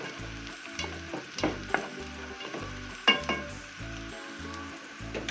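Onion fries in a pan for a sausage dish, giving a continuous close sizzle with scattered crackles and the occasional clink and scrape of stirring.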